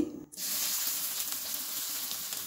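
Chopped onion and bay leaf hit hot mustard oil with a sudden loud sizzle that starts after a brief quiet moment. The steady hissing fry then continues, close and alone, with no talk.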